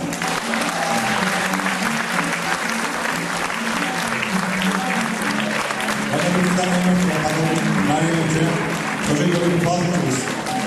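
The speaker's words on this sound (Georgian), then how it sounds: "კიდევ ერთი დიდი აპლოდისმენტები ქალბატონ მარინას" A large audience applauds the director of a charitable education and culture fund at a 2011 event in Khobi, with dense sustained clapping, loud and continuous throughout, and voices mixed into the crowd.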